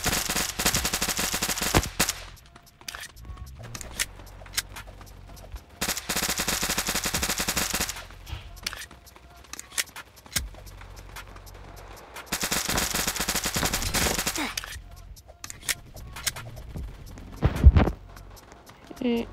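Bursts of automatic gunfire in a Batman game during a Chicago bank raid, coming in several long loud volleys separated by quieter gaps, with a sharp crack near the end and occasional talk.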